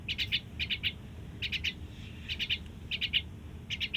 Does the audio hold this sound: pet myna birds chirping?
yes